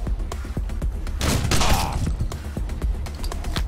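Gunfire in the video game Wasteland 2: a rapid volley of sharp shots and thumps, loud and close, with a denser burst in the middle and scattered cracks after.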